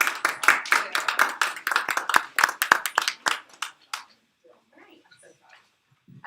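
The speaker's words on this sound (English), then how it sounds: "Can we give a round of applause for our three panelists?" A modest audience at an education day event claps for a panel of three speakers, with crisp, distinct handclaps for about four seconds. The claps then stop abruptly, leaving faint, quiet murmuring.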